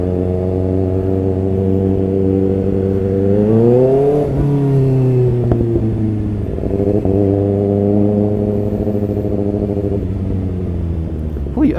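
A motorcycle engine drones steadily on a busy road in traffic, pitch climbing and dropping as it accelerates and shifts, loud and close throughout with faint clatter from surrounding vehicles.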